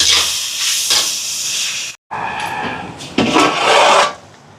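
Water coming to a boil in a large cooking pot, prepared with vegetables and tomato before rice goes in for an almsgiving meal, giving a steady loud hissing, steam-like roar with a brief break midway.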